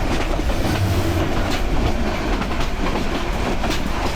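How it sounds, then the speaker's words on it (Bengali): The Parjatak Express, running Dhaka to Cox's Bazar, rumbles past loud and close in a continuous roar of wheels and carriages, with faint rhythmic clickety-clack on the rails. "বিশাল বাহন নিয়ে যাচ্ছে পর্যটক এক্সপ্রেস ঢাকা টু কক্সবাজার"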